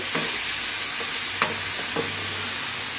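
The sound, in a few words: okra being stir-fried in oil in a nonstick wok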